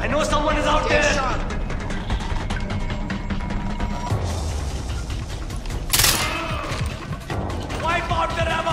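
Gunfire and explosions from Far Cry 4 crash and roll almost without pause, dense bursts of shots layered with booms and battle noise, loud throughout, with shouted voices mixed in.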